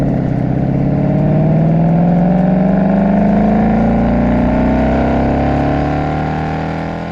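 A Ford Mustang GT V8 accelerating hard, its rising engine drone sweeping steadily upward in pitch for several seconds, loud and close, without any talk before the sound fades slightly at the end.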